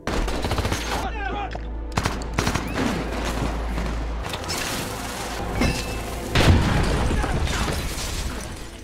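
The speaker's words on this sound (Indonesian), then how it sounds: "hingga aksi tembak-tembakan pun terjadi di sana" Rapid bursts of gunfire crackle throughout a shootout, with sharp shots, mechanical clatter and a heavier blast near the end, fairly loud and close.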